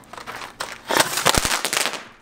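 A homemade firework launcher fires outdoors, giving a quick cluster of sharp bangs and crackling pops over about two seconds, moderately loud and close.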